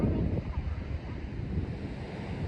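Ocean surf washes onto a windy beach among sand dunes, a steady low rumble of waves mixed with gusting wind buffeting the microphone.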